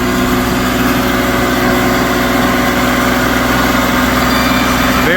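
A TimberKing sawmill cutting a log with a carbide blade, heard as a loud, steady, close mechanical drone of engine and blade running continuously without a break.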